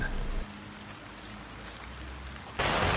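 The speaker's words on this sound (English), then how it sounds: "It's raining." Steady rain falls outdoors on a cold April day in New Hampshire, a constant dense hiss that grows noticeably louder and brighter in the final half second.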